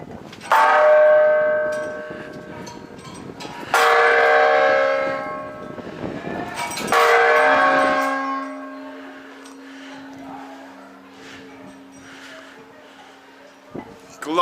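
A historic church bell in Trinidad, Cuba, struck by hand three times, each loud clang ringing out with a long shimmering decay, followed by a lingering low hum and near-silence.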